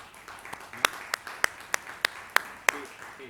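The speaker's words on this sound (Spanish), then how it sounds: "Un fuerte aplauso para ellas, por favor." A small audience at a round-table panel on the Mediterranean's future claps for the panelists: sparse, distinct individual claps at a steady rhythm over quiet room noise, fairly close and moderately loud.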